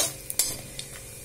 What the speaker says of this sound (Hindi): देखिए हमारा पट पट पट पट जल रहा है तड़का